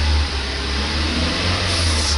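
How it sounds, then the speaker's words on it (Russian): A car engine running at around 1200 rpm, held as a steady low hum with a slight lift as the gas pedal is pressed, close and continuous. "нажмем на газулю"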